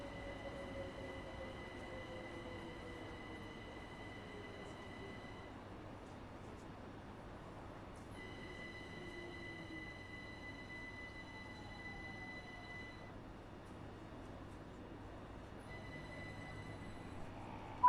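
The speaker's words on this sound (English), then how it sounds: "We'll just bring the train to a gentle stop here." Class 377 Gatwick Express train in Train Sim World 5 braking to a gentle stop at Gatwick Airport: a steady low rumble of the cab with faint falling brake tones and a high electrical whine that cuts in and out, no talk.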